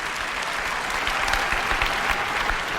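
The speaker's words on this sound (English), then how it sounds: "There's some good cheering there" A large audience at an Apple keynote breaks into dense, sustained applause and cheering, loud and continuous with no pauses.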